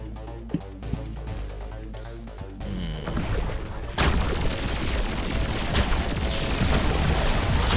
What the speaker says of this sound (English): I got caught in the explosion.